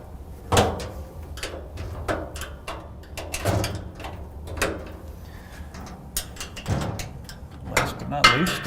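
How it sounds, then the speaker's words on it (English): Hinge pins being pried out of a Rittal TS8 electrical panel door with a wedged tool give a series of metallic clicks, scrapes and knocks at an irregular rhythm, close by, with some talking over them. "What I like to do is just wedge into a gap and start to pry the hinge pins down"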